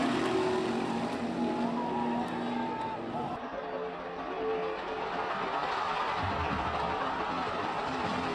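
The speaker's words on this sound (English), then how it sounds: "the Fox 8 team that was there on pit road shooting this video as the final lap of the Daytona 500 came to a harrowing end" Race cars roaring along on the final lap of the Daytona 500, heard from pit road as a dense, loud, continuous engine wash with a distant crowd roar mixed in, voices talking over it.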